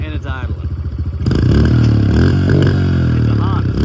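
Old Honda dirt bike engine idling and revving up close, a loud clattering motor with a voice speaking briefly over it.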